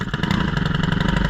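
A Stihl FS 131R string trimmer engine firing on a cold start, a loud, close, rapid pulsing idle that holds steady throughout with no talking.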